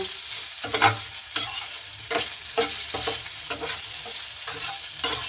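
Pieces are stirred and tossed in a frying pan, with a steady sizzle and repeated rhythmic scraping of the spatula every half second or so, close and clear.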